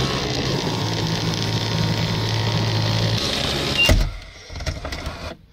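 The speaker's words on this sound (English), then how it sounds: "So the convertible top completely closed, but it never clicked that micro switch." Porsche 911 cabriolet convertible top motor closing, a steady electric whir running for several seconds, then a clunk as the top seats, followed by faint rustling.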